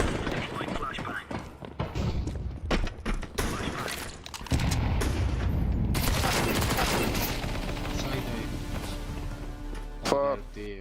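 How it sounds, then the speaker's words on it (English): A flashbang grenade goes off in Counter-Strike 2, with sharp bursts of gunfire around it and a dense, loud blast of noise that runs on for several seconds. People talk over the game sounds. "Deploying flashbang."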